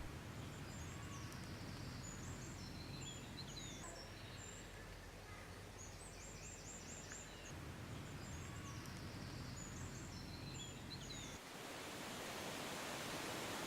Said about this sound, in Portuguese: A cascata de Galegos da Serra, alimentada pela Ribeira de Arnal, continua com um caudal de inverno.